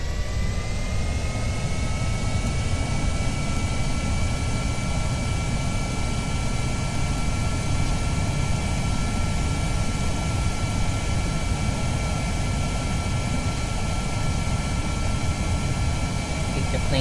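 A jet engine on a plane in Kerbal Space Program roars at a steady, constant loud level with a broad rushing drone and a thin high whine, unchanging throughout.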